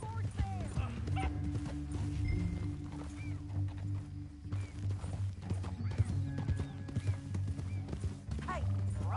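Horse hooves clip-clopping in Red Dead Redemption 2, a steady, fairly close rhythm of clops with occasional whinnies, heard under game dialogue and voices.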